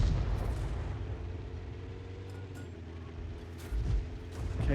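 Artillery fire from a 105 leFH18B2 self-propelled gun in World of Tanks, a few dull booms and bursts over a low rumbling background, fairly distant and quiet.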